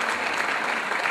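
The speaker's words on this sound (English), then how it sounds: "the two security men, to be fair, deserve a round of applause" At a Hunt for a Hunk night at a bar, a crowd gives two security men a round of applause, a thick, steady wall of clapping that stays loud and close throughout.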